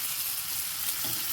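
Vegetables stir-frying in tallow, giving off a steady, close sizzle and crackle that holds without a break for the whole moment, with no voices.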